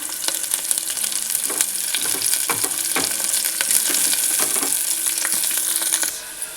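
Onions, green chillies and mint fry in a pan of hot oil for a Telangana-style blood fry, giving a steady, close sizzle with scattered stirring clicks and scrapes and no talking.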